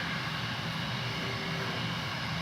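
American Airlines Boeing 777 arriving from London Heathrow at DFW Airport, a steady, moderately distant jet engine drone with no break.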